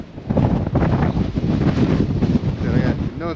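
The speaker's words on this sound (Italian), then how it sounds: "Esco da queste mura per capire un po' come cambia il vento." Strong wind roaring steadily across a microphone fitted with a wind filter, outdoors on a motorcycle trip, loud and continuous for the whole stretch with brief whistling tones near the end.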